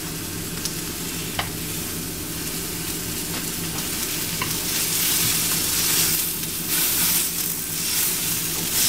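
Okra sizzles steadily in a frying pan, a continuous close hiss of oil with occasional stirring scrapes and clicks, growing slightly louder toward the end, with no talk.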